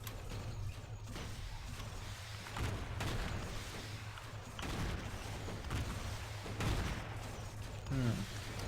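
Spaceship weapons in the game Stellar Tactics fire in a series of faint, muffled bursts and booms over a steady low engine hum.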